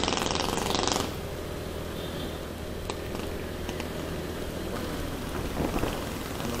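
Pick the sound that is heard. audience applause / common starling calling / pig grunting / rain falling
rain falling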